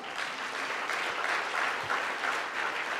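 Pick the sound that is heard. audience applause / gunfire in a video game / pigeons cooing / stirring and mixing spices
audience applause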